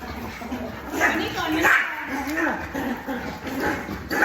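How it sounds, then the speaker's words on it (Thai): Excited dogs yip, whimper and bark nearby, with a person talking over the commotion throughout. "เห่าเสียงดังสุดๆเลย วุ่นวายมาก"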